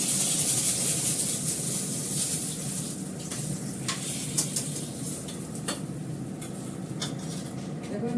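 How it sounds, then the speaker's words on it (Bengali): Eggplant (brinjal) frying in oil makes a steady, moderately loud sizzle with intermittent clinks and scrapes of a utensil against the pan. "দেখুন বেগুনটা ভেজে নিলাম"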